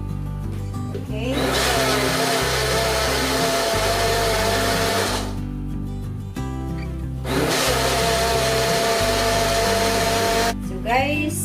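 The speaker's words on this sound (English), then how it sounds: "So we're gonna blend it now." A blender whirs loudly blending aloe vera juice with honey in two long bursts, each about four seconds, separated by a short pause, with a brief third start at the end.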